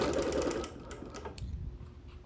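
Sewing machine quilting through wool appliqué with embroidered flowers, a steady mechanical stitching whir that is loudest at first and then eases off, heard alone and close.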